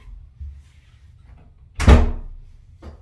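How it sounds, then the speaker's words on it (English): A door is pushed shut with a single solid thud midway through, after faint low shuffling; a lighter knock or click follows shortly after, with no speech. "May I close the door?"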